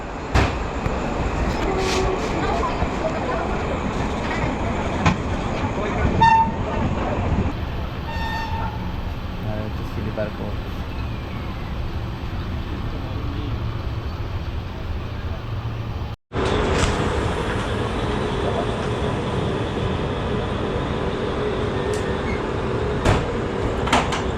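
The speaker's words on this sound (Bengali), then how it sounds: "শিয়ালদা থেকে আমার ট্রেন পুরো একদম এগারোটা চল্লিশে ছেড়ে দিল চোদ্দো নম্বর প্ল্যাটফর্ম থেকে" Sealdah–NJP Humsafar Express running after leaving Sealdah, a steady loud broadband rumble of the moving train with a brief dropout midway, and faint speech in the background.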